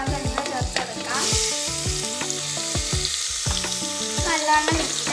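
Onions, tomato and a green chilli frying for a beef curry, giving a steady close sizzle broken by repeated clinks and scrapes of stirring, with a tonal backing underneath.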